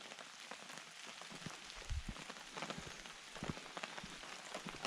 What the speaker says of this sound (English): Sounds a lot louder in the tent than I think it's actually raining.